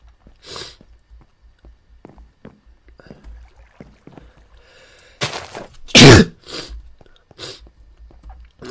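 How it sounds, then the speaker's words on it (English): A single sharp, loud sneeze bursts out in the middle of quiet game-play sounds, preceded by a softer exhalation and followed by faint clicks and light background noise. "I'm sorry for my sneezing"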